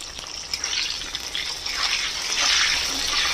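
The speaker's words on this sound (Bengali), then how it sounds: "কপিটাকে আগে খুব ভালো করে একটু লাল লাল করে ভেজে নেব" Cauliflower pieces fry in a generous amount of mustard oil, giving a continuous bright sizzling hiss that grows louder and denser toward the end, heard alone without talk.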